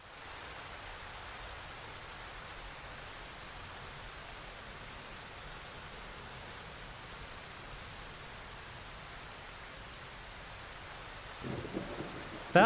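Steady heavy rainfall with a rumbling thunderstorm undertone in the horror game Darkwood, a constant dense wash that stays uniform throughout, with a short louder burst right at the end.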